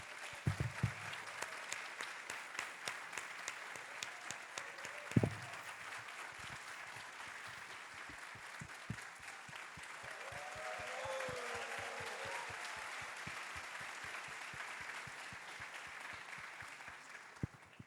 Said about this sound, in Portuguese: eu queria novamente pedir uma salva de palmas, professora